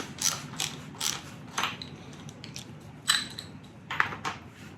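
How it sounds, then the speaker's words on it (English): A 3/8 inch ratchet being worked during a trike motor install, rapid clicking bursts of the pawl in short repeated strokes, close and crisp, with no talk. "Use your 3/8 inch ratchet."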